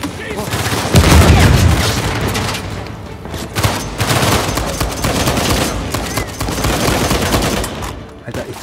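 Dense gunfire in Uncharted 4: A Thief's End, New Devon, comes as loud overlapping bursts and booming shots that pile into sustained fusillades across the clip, with a voice in the background.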